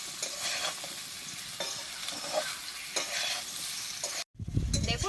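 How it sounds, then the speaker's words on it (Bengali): Pieces of green jackfruit frying in oil, a close, continuous crackling sizzle with periodic stirring scrapes, then a sudden break and a heavier rustle at the end. "এঁচড়টাকেও আমি লাল লাল করে ভেজে নেব।"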